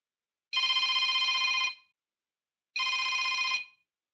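Two loud bursts of an electronic telephone ring from an automated identity-verification call, each about a second long with a clear pause between them, heard alone with no voices.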